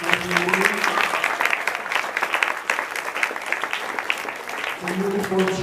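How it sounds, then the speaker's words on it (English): Applause from a crowd at a school gym dedication honoring the newly formed cheer squad, steady clapping for several seconds, with a voice speaking briefly at the start and end. "Can we give a big round of applause for the cheer?"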